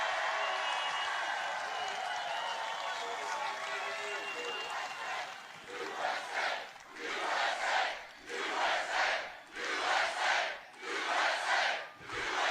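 A political rally crowd roars and shouts together, building into rhythmic surging chants that rise and fall in loud repeated waves, with voices blending into a dense cheering mass.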